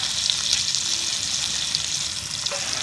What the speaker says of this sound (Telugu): ఇగో ఇట్లా ఫ్రై చేసుకోవాలి